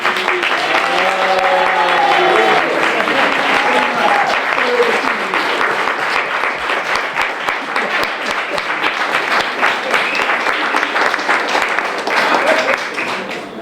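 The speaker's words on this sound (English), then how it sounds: "I'd like to give them a big round of applause." An audience at a peace run event applauds loudly and steadily for over ten seconds, with dense clapping that tapers slightly at the end, while a voice speaks over the start of it.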